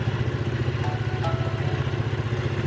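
A car engine runs steadily at about 1850 rpm during diagnostic testing, giving a close, even low rumble with a regular pulsing beat and no voices.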